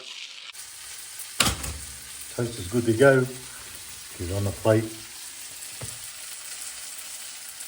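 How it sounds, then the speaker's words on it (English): Steady sizzling of sausages frying in a pan runs throughout, with a sharp clatter near the start and someone speaking briefly over it. "So it's sizzling along nicely here."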